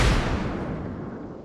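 A torpedo striking the Fuso battleship in the naval combat game World of Warships, heard as a heavy booming explosion with a strong low-end impact up front that rumbles and slowly decays.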